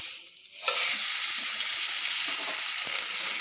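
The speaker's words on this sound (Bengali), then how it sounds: "কাতলা মাছের মাথাটা, সেটা আমি ভাজার জন্য দিয়ে দিচ্ছি। আমি ভেজে নেব" Katla fish head, rubbed with salt and turmeric, is dropped into hot oil: after a brief quiet moment, a loud, close sizzle bursts up and keeps crackling steadily.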